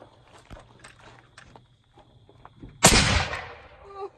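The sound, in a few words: gunshot from a shouldered firearm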